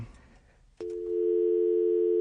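An incoming phone call signal on a live stream: a click, then a loud, steady electronic tone that holds without a break.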